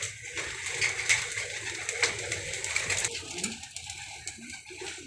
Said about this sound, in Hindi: 2-4 कबूतर अच्छे और मादियाँ वगैरह शानी भाई के पास हैं